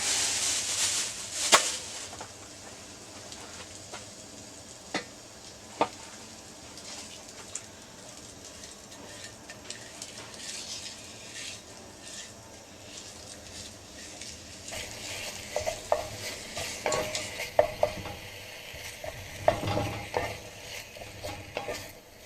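Ground meat browns in a pan with a low, steady crackle, punctuated by occasional scrapes and taps as it is broken up, busier and louder toward the end.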